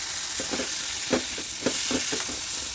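Pumpkin, carrot, eggplant and drumsticks stirred into tamarind pulp for sambar in a pot, a steady sizzle and hiss broken by several soft scraping stir strokes.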